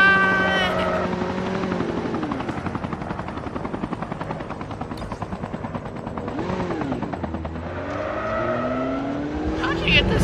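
A vehicle is driven through a Call of Duty Mobile battle royale match, its engine droning loud and steady with rising and falling pitch sweeps, layered with game effects throughout.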